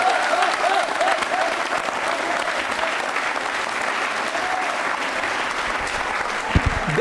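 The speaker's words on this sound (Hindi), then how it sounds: "जोरदार तालियां बजाइए" Sustained applause from a studio audience on a Rajasthan television quiz show, steady and dense clapping filling the whole stretch at an even level, with a brief louder burst near the end.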